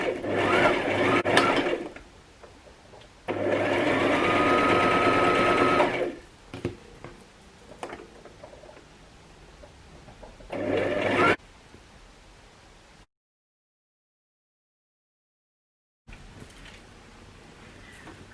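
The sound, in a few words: sewing machine sewing darts into a dress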